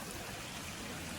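Stream water runs along a woodland walking trail on an evening in April, a soft, continuous babble and trickle heard close and steady for a brief moment, with no voices.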